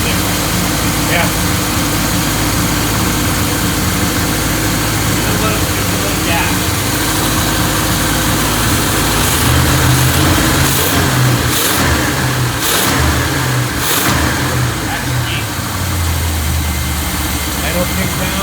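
A 1984 Chevy Blazer barn find engine idles roughly and is revved several times, close and loud, with people talking over the running engine throughout.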